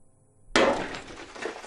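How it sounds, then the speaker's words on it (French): A hammer point strikes a tempered glass pane, which bursts with a sudden loud crack followed by a dense crackling shatter as the fragments break apart, close and alone. "Dès que le marteau perce la surface de la vitre, les forces qui s'exerçaient au cœur du verre sont rompues."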